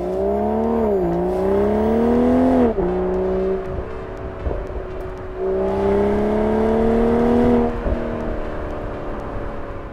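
The big engine of a BMW Z4 M40i roadster revs loudly under acceleration, climbing in pitch through two long pulls separated by a brief gear-change dip, then settling to a steadier drone.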